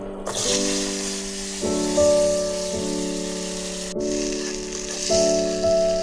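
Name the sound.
cut potatoes added to hot oil, sizzling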